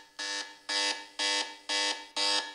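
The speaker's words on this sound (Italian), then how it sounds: "l'allarme se vi trovate in una situazione di pericolo o per richiamare velocemente l'attenzione anche di altri colleghi come la luce lampeggiante oppure un allarme sonoro" A Doogee S61 Pro rugged phone sounds its emergency alarm: five loud, harsh, buzzing tones in a steady pulsing rhythm, each about a third of a second with short gaps, close and alone.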